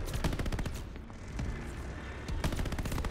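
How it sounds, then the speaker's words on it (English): Anti-aircraft guns firing in a flight combat video game: loud, rapid bursts of close gunfire in quick succession, one short lull, then another heavy burst, with no voices. "Can't sit without those AA guns taking us out."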